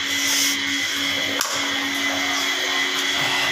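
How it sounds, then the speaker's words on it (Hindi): A household water pump motor runs to bring up water for the geyser. It gives a steady, moderately quiet electrical hum and drone with a faint click near the middle, and no one speaks. "ओह मोटर नहीं बंद हुई"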